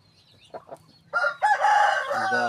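A Japanese Gray Shamo rooster crows once, loud and close, after a couple of soft clucks, its long harsh call rising and holding before trailing off.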